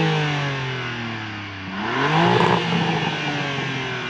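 A 2025 BMW M3 with a manual gearbox and chrome exhaust tips, revving as heard from outside the car: the engine note drops, then surges up in a loud rev and settles into a raspy idle.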